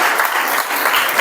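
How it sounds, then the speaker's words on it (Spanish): A church congregation applauds for the King of Kings, a dense, steady wash of many hands clapping together with no voices over it for a short burst. "Dale un fuerte aplauso al Rey de Reyes"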